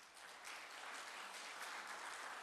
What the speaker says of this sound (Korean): 우리 박수로 한번 환영하시겠습니다